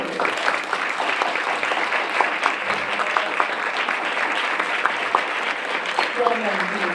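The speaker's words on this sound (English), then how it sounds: "If we could give them a round of applause" Audience applause at a preschool promise board meeting, a steady patter of many hands clapping for about seven seconds, with a few voices talking over it.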